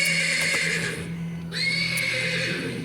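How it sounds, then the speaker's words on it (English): A horse neighs persistently in the stables in the game Black Book, a loud whinnying call that rises and falls over a few seconds against a low background hum. "The persistent neighing of a horse can be heard from the stables"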